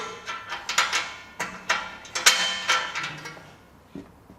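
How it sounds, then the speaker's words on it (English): A metal bolt worked through the timber of a raised vegetable garden bed, a run of small dry ticks and rattling knocks in an uneven rhythm, close and fairly clear, fading out at the end. "The other fixing method is nut and bolt. So we can put the bolt through."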